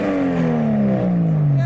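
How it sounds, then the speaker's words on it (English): A modified Nissan Skyline fitted with a big turbo revs loudly and close by at a car meet, its engine tone sliding steadily downward as it winds back from a high rev. "And the Skyline started revving again."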